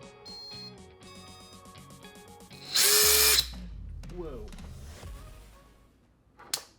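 A small electric motor in a reassembled Nerf dart blaster built to fire 100 darts per second whirs up in a loud, harsh burst, then winds down with a falling whine, followed by a brief sharp whir near the end.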